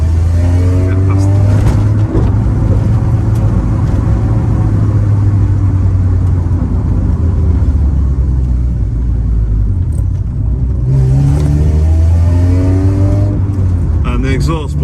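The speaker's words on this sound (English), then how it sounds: "the exhaust blowing, as you might be able to tell" A Honda Civic with a B18 VTEC engine drones loudly with a low, steady exhaust rumble and brief rises in revs while driving, its leaking exhaust blowing beneath someone talking throughout.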